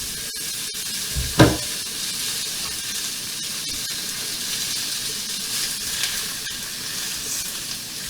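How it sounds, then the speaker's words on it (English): Meat dropped into a hot pan, a sudden thump then a steady loud sizzle and crackle of frying that continues throughout with occasional faint clicks. "Go ahead and throw our meat in."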